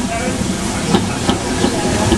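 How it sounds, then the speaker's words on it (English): Pacific steam locomotive drawing into a station tender-first, a steady broad hiss of steam with a few soft clanks and bumps over a continuous background rumble. "another Pacific is coming into the station, running backwards"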